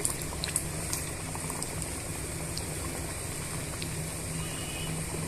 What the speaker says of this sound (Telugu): ఆయిల్ వేడైన తర్వాత ఇలా మనం ఆయిల్లో వేసుకొని డీప్ ఫ్రై చేసుకోవాలండి బ్రౌన్ కలర్ వచ్చేంత వరకు డీప్ ఫ్రై చేసుకోవాలి